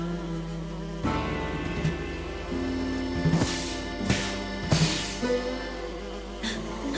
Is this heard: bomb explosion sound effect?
no